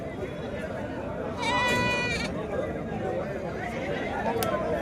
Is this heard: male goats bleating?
yes